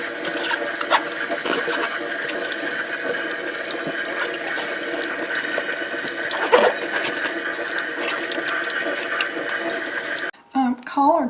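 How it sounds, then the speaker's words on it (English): Collard greens rinsed leaf by leaf under a steady stream of running water in a freshly cleaned kitchen sink, a continuous splashing hiss lasting several seconds before the flow briefly cuts off near the end. "I like to wash my collard greens on the front and the back before I cut them up"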